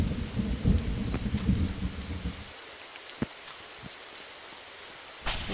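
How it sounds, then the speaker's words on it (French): Thunder rumbles in a video game over steady rain and rustling, with a deep rolling roll at the start, a sharp crack midway and another burst near the end, with no talking. "arrêtez un peu avec le tonnerre"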